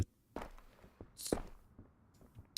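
Footsteps in Road to Vostok: a handful of separate, irregular thuds and scuffs, some soft and distant and a few sharper and closer, with quiet gaps between them.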